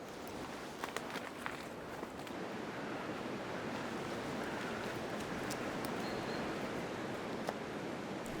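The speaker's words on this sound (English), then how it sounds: "The wind is really blowing today" Strong wind blows through woodland trees during a squirrel hunt, a steady broad rushing roar with occasional faint crackles and no talking.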